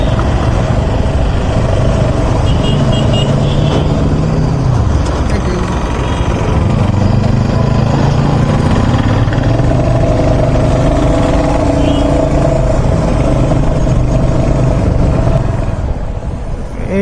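Vehicles including motorcycles idle and rumble in a jam at a railway crossing, a dense continuous engine drone with occasional revs, people talking over it.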